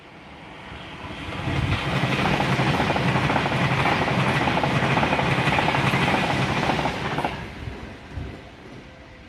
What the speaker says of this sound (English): Pendolino Class 390.